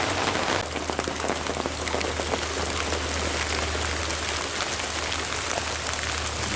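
Steady rain falls outdoors by a camper near a small creek during a stormy day, a dense, even hiss of drops hitting surfaces that continues without a break.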